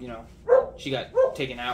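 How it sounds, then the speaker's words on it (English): Dogs playing outside give a few short barks and yips in quick succession, heard beneath a person talking close by. "if you hear the dogs, they're playing outside"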